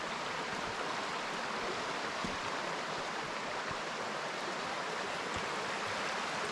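Panther Creek rushes steadily in a soft, continuous wash at a creek crossing where the bridge is out, with no voices.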